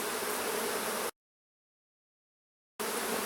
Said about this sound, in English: There are a lot of bees covering.